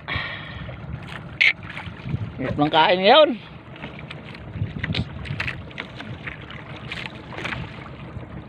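A small outrigger fishing boat (bangka) moves on the open sea under a low engine and water wash with gusts of wind noise, while someone talks over it.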